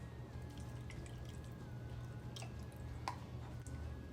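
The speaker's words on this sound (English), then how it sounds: "Now we're going to pour in 2 cups of heavy whipping cream." Heavy whipping cream poured from a container into a pan of simmering sun-dried tomatoes, a soft, low liquid splashing with a few drips and squishes near the end.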